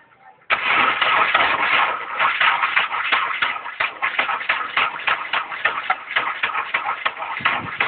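A 2000 Nissan Maxima with a weak battery cranks, the starter churning loudly in a rapid, uneven rhythm that continues steadily for about seven seconds without catching.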